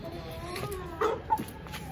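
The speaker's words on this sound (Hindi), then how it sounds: "वो आवाजें निकालने लग गए मुर्गों वाली" Roosters and hens cluck and call nearby, with a couple of sharp louder squawks rising over a steady low background hum; no talking.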